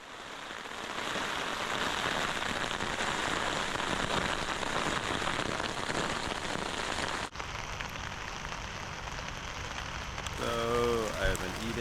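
Steady rain patters on a backpacking tent, a dense, even hiss that fills the space close around, with a quiet voice speaking briefly near the end.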